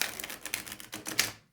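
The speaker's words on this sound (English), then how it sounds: "Here we go with a riffle shuffle." A tarot card deck being riffle shuffled makes a quick run of crisp card flutters and snaps, close and clear, building to a final burst as the cards interleave before a short quiet tail.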